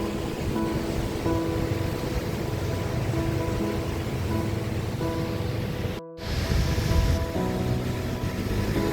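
Sea waves wash steadily against the shore along the boulevard in Dipolog, Zamboanga del Norte, Philippines, in a continuous broad hiss, with a brief break partway through before the surf resumes.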